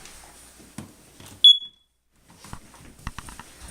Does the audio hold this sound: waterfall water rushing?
no